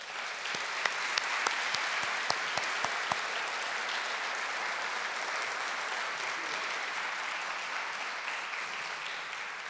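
An audience gives sustained applause to welcome a speaker at a lecture on secularism, a dense, even clapping from a full room, with a few louder individual claps early on.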